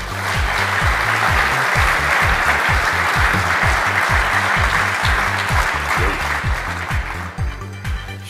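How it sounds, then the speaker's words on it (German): Loud, sustained audience applause welcoming a stock-market expert to a real-estate industry event in Hesse, a dense wall of clapping with a steady rhythmic beat underneath, fading out near the end. "begrüßen wir einem herzlichen Applaus den absoluten Fachmann"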